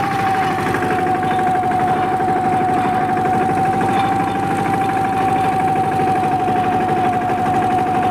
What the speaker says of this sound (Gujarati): અત્યારે હું ટ્રેક્ટરમાં ચડી ગયો છું